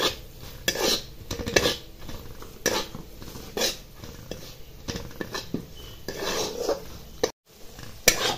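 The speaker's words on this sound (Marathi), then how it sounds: "हे जे पावडरचे मसाले हे डाळी बरोबर छान मिक्स करून घ्यायचे" Powdered spices are stirred into lentils in a pan with a spoon, making a busy run of scraping, clinking metal and soft sizzling, close and continuous with a brief gap near the end.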